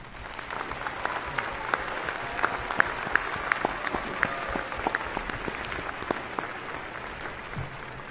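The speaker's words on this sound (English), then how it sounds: "a big round of applause for them" An audience at a university doctoral and master's commencement ceremony applauds new graduates, with dense, even clapping from a large crowd filling a hall and holding steady throughout.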